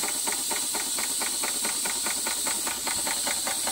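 A Weeden Model 14 toy steam engine with a single cylinder, slide valve and small flywheel, running on compressed air, gives a rapid, even chuffing hiss of rhythmic exhaust puffs over steady background hiss.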